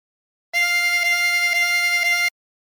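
A 16-hole tremolo harmonica draws four repeated notes on hole 16, a bright, reedy, wavering tone sounding close and alone, with each note gently re-articulated in an even rhythm.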